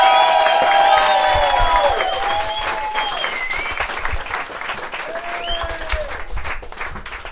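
Live stand-up comedy crowd applauding and cheering for a comedian; dense, loud clapping with some whoops and whistles that gradually thins and fades over several seconds.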